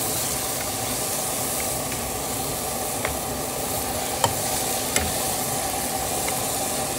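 Pork adobo sizzles in a pan just after soy sauce is poured in, a steady loud frying hiss with a few faint clicks of stirring, and no voices.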